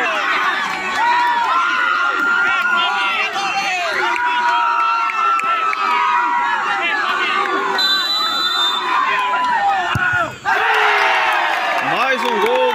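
Supporters at a youth football match, including many children's voices, cheer and shout loudly and continuously close by, with a brief dip before the noise swells again; a bell rings briefly partway through.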